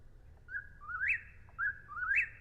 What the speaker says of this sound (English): This is a bird in the eastern United States called an eastern whippoorwill, because it says whippoorwill, whippoorwill.